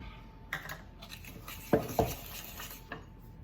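Sugar and butter being mixed in a bowl for a Nutella banana cake, with soft scraping broken by a few sharp clinks of a utensil against the bowl, close and fairly quiet.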